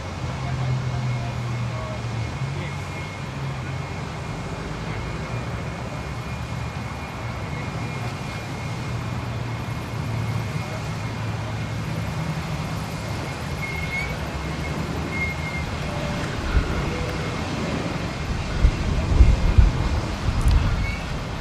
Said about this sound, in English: Oh, Jetstar 320 going past us.